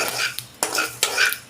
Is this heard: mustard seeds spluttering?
yes